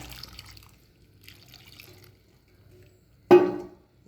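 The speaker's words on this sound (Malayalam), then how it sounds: "ഞാൻ തിളപ്പിച്ച വെള്ളമാണ് ഉപയോഗിക്കുന്നത്." Boiled water splashes into a pot of elephant foot yam and raw plantain in one short, fairly loud pour that fades quickly, following a near-silent stretch with faint background noise.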